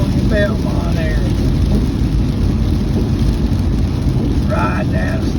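Heavy rain from Hurricane Helene roars steadily against a car driving at highway speed near Gastonia and Belmont, a dense constant wash with brief faint tonal squeals rising above it.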